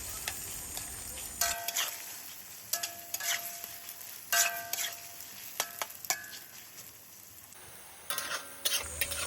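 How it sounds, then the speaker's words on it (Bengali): Chopped onions fry in hot oil with whole garam masala and bay leaves for a Bengali mutton kosha, a steady close sizzle broken by repeated scraping strokes of a spoon stirring the pan. "পেঁয়াজগুলো ভালো করে নেড়েচেড়ে ভেজে নিতে হবে।"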